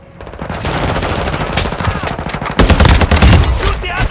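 Sustained machine gun fire from Call of Duty Modern Warfare 2, rapid dense bursts running nearly the whole stretch and growing louder and heavier toward the end, with faint talk mixed in.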